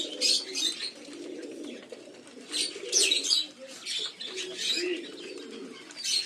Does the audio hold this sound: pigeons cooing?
yes